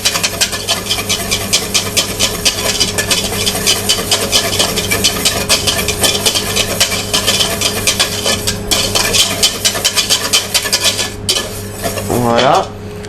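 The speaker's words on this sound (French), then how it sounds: "on commence à fouetter un peu tout ça" Gribiche sauce whisked in a bowl for a calf's head dish: a dense, fast run of metallic clinks and scraping against the bowl that continues steadily and loud, with no talk.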